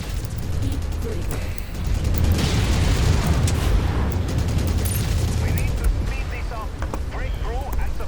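Ammo explosion in the MechWarrior 5: Mercenaries video game, heard as a dense, loud rumbling blast with mechanical clanking and whirring layered through it, sustained across the whole stretch without talk.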